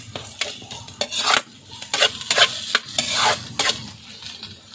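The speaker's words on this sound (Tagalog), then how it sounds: "Ano lang mga brad, ato na igisa." Onions and long green chili peppers sautéing in a pan, with repeated scraping stirs of a utensil against the metal over a steady background sizzle, close and fairly loud, no talking.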